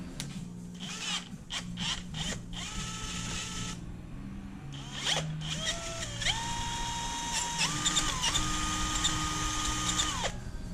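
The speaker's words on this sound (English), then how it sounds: "drilling into metal is not without its little jerk there at the end" A power drill bores into metal while fitting Porsche 968 front shocks, its motor whine rising and falling in pitch through bursts, stops and a switch to reverse to clear burrs, close up without speech.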